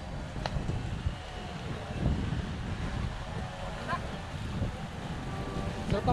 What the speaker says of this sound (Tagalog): Sarap ang hangin dito.